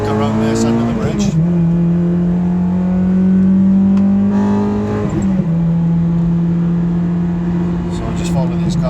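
Car driven flat out on the Nürburgring Nordschleife, engine droning loud and steady with two sharp gear-change dips in pitch, close and continuous throughout, with a voice talking over it.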